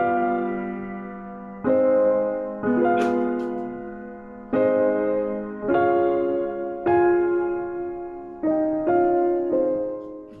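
Wagner's Rhine Maidens theme from The Ring played with a sad harmonization: a series of separate sustained chords, each struck and then slowly decaying, about seven in a row at a moderate, even pace, instrumental only.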